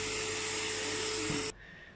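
A vacuum cleaner whirs steadily while cleaning dust out of a disassembled laptop, loud and close with a constant hiss and hum, then cuts off abruptly about a second and a half in, leaving quiet room tone.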